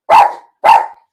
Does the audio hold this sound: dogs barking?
yes